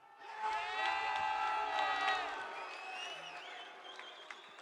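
A press conference crowd at a UFC 305 event in Perth applauds and cheers in a steady, dense wash of clapping and whoops that holds loud for a couple of seconds, then thins out.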